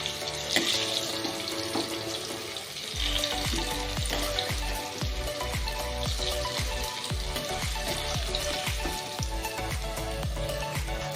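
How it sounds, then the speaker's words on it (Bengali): Potatoes fry in oil in a pan with a steady, close sizzle. Sharp repeated clinks and scrapes sound like a utensil tapping and stirring through the oil, and no one speaks. "দেখো আলুগুলোকে আমি লাল করে ভেজেছি"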